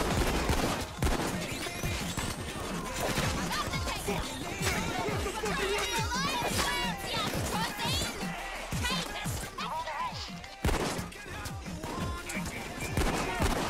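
Dense, continuous in-game gunfire from the heist shooter Payday 2, rapid overlapping shots and crashes packed tightly together, loud and near, with voices talking over the shooting.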